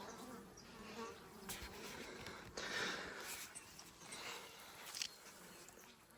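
Honeybees buzz steadily around a swarm trap, a faint droning hum with a few insects passing closer now and then; no one speaks.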